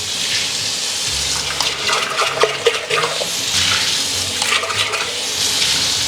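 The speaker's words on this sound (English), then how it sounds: "I'm gonna give it a really quick rinse on the outside" Running tap water from a kitchen sink spray rinses the outside of a Vitamix blender part, a steady, close, fairly loud broadband splash with slight shifts as the part moves under the stream.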